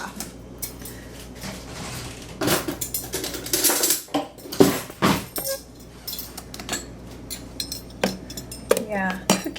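A measuring cup scoops brown sugar for banana chocolate chip muffins, giving a series of irregular scraping scoops and clinks of utensils against a container, close by, with brief pauses and no talk.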